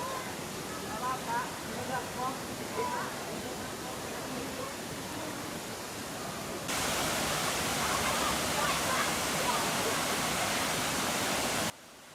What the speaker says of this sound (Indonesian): Air terjun Liang Pandan membentang Sungai Sanggarahan yang terletak di pusat kota Puruk Cahu.